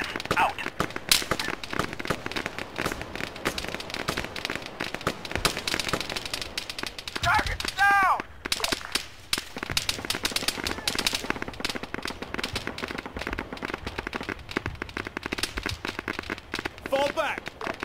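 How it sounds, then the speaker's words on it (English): Artillery strike in the Arma 3 war game: dense, continuous battlefield gunfire and crackling explosions pounding throughout, with a brief lull partway through and voices talking over the din. "Artillery strike inbound."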